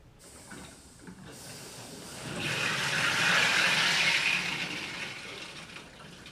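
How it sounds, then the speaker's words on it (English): Water rushing through a newly pressure-tested household plumbing supply line with trapped air bubbles, a soft steady hiss that swells louder in the middle and then eases off, with no talking. "I can hear air bubbles in the line"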